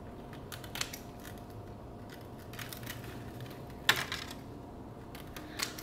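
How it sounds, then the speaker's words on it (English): Scissors cut through plastic netting wrapped around a newly delivered orchid, a few faint close snips and crinkles in a quiet room with no talking. "I think I'm going to have to cut the net off at the bottom and go from there."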